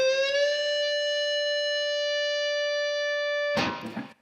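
Electric guitar playing a solo phrase: one long sustained, bent note rings steadily and clearly for over three seconds, ending in a burst of noisy pick and string scrape.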